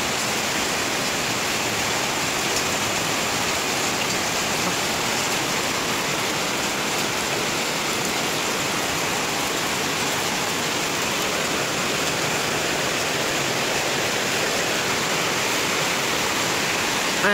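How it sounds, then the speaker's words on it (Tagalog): Heavy rain pours down in a dense, steady hiss that stays even throughout, with no voices or other sounds over it. "Lakas ng ulan."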